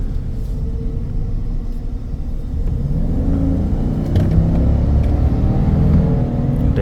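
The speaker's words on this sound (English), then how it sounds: "There's that V8 sound." A 2023 Chevy Silverado LTZ V8 rumbles from inside the cab as it accelerates, a deep engine growl building gradually and staying strong, with no voices.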